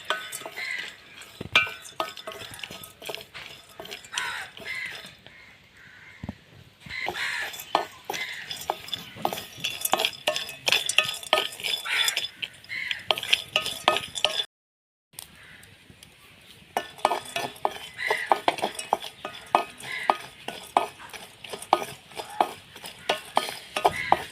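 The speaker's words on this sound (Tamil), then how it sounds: "சும்மாவே நட்ஸை வறுக்கிறோம்" Nuts dry-roasting in a pan without ghee, stirred continuously with a utensil that scrapes and clinks against the metal, making a busy rattling rustle with one short silent gap partway through.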